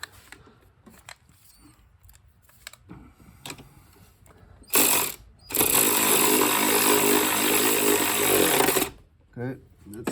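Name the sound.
tightening Mercedes C300 battery hold-down with a ratchet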